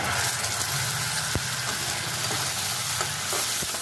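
A paste of about eight garlic cloves and one large onion sizzles loudly in hot oil while pumpkin curry cooks, with a steady hiss broken by a few sharp clinks of a stirring utensil.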